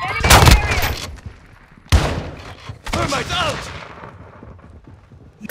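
Enemy gunfire in the video game Call of Duty: Modern Warfare II, loud bursts of shots and blasts in two or three clusters, with shouted in-game voice callouts over the firing.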